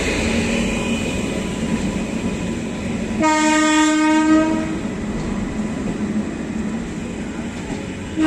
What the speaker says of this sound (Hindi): और वडोदरा WV5 बनारस नई दिल्ली सुपरफास्ट एक्सप्रेस।